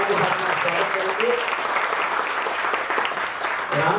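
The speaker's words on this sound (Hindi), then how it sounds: "जोरदार ताली के साथ स्वागत करेंगे।" An audience applauds loudly to welcome a guest at a Hindi-language public gathering, dense steady clapping filling the whole stretch with faint voices underneath.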